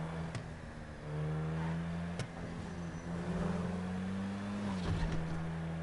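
Old vintage car engine running at an outdoor classic car meet, a steady low drone that rises and falls, with a few sharp clicks and faint background noise.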